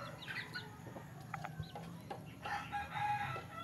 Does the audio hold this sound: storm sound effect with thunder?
no